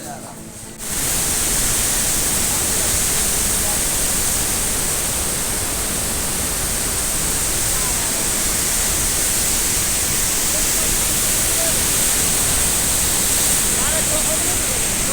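Water discharges through dam gates in a loud, unbroken roar of rushing spray that starts abruptly and holds steady, with faint voices beneath the torrent.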